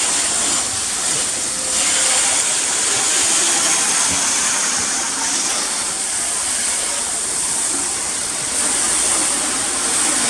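A hose sprays water over a car's bodywork, producing a loud, continuous hissing rush that barely varies throughout, with no talking heard.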